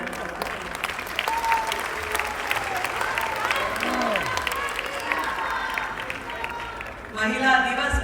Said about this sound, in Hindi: एक बार जोरदार तालियां पूरा करें।